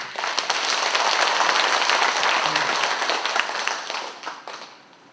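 An audience at a commemorative lecture breaks into warm applause, many hands clapping together in a steady dense burst that fades out toward the end.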